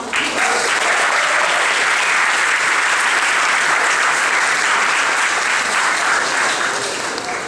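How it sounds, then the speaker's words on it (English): Sustained audience applause for speaker Gary Younge at a talk on race, class and resistance, a steady, even wash of many hands clapping that holds at full strength throughout. "So I will have a round of applause for Gary now."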